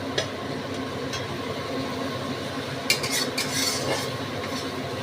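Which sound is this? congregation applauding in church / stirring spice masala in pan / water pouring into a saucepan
stirring spice masala in pan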